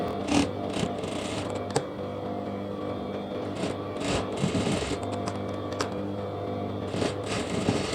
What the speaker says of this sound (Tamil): ஷோல்டர் ஜாயின் பண்ணிட்டு ஓவர்லாக் போட்டு வந்துட்டேன்